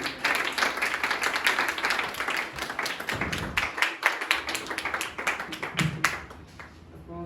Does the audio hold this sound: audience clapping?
yes